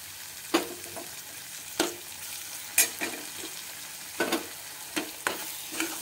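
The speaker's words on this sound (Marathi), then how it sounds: "चमच्याने याला हलवत राहायचं छान अगदी तेल सुटेपर्यंत." Fresh cream gravy for shahi paneer stirred with a spoon in a frying pan, with regular scraping strokes over a soft background sizzle, close and alone.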